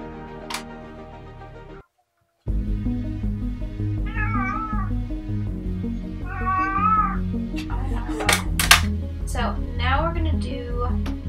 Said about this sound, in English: I don't even know if you're gonna hear his meowing on the mic.